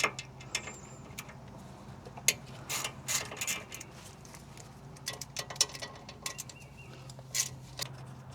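A ratchet wrench removes bolts from the front end of a 2011 F150 with a bad IWE, giving quick bursts of sharp clicks and metallic rattles, faint and close, with no talking.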